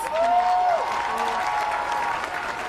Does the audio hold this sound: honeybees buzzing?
no